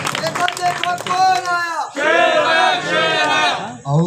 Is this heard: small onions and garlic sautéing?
no